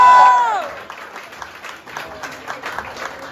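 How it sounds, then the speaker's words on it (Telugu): Audience applause for a prize winner at a lucky-guest giveaway, a steady patter of many hands that follows a brief tone and continues at moderate loudness. "ప్లీజ్ విన్నర్ కి క్లాప్స్ కొట్టాలి"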